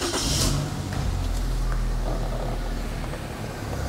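Small 2014 Daihatsu Sirion automatic hatchback engine starting, a brief crank followed by a steady mid-pitched idle, close and fairly quiet with no talk.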